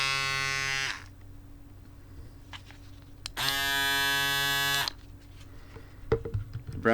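Cheap Lifetime foil shaver from Action with two foils, buzzing against a shaved head in two separate bursts of about a second each, with quiet handling noise in between.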